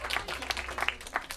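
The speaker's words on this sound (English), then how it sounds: "So a round of applause for those." Wedding guests applauding in a brief, lively burst of clapping with uneven, overlapping claps, mixed with some voices.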